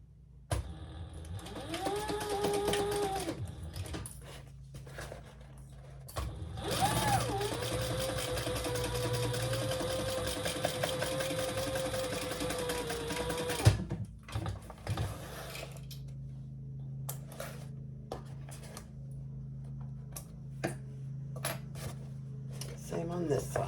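A sewing machine stitching the seam of a crossbody bag runs in two bursts, a steady motor whine with rapid needle clatter, close and moderately loud, stopping between runs while a person talks quietly in the gaps.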